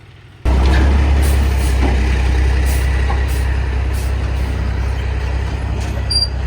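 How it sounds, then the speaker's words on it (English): A dump truck drives around a scrap pile after a delivery, its engine a steady low rumble up close with a brief air-brake hiss, continuous throughout. "They delivered it with a dump truck, and they're going down to the scrap pile to see if he could get turned around in his truck down there."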